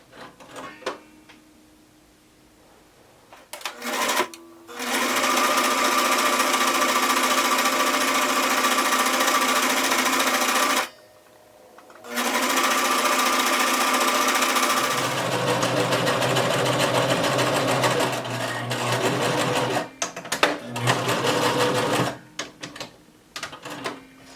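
A sewing machine stitching a skirt hem, running in long steady bursts of rapid mechanical clatter separated by brief pauses, close and clear with no talking.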